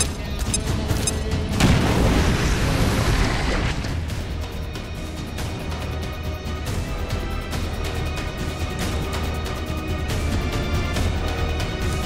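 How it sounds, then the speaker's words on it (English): A grenade explodes in the video game XCOM: Chimera Squad with a loud, booming blast that swells briefly and then fades into a lingering rumble over steady game background noise. "Throwing grenade!"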